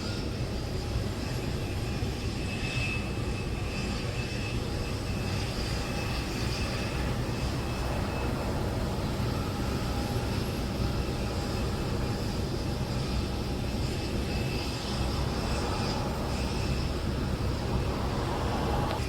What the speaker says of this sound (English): I am actually very close to the airport right now, looking at the aircraft over here.